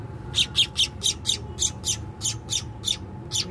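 Baby Baya weaver chicks squawk in a rapid, regular series of about a dozen sharp, high calls, close and loud over a faint low background hum.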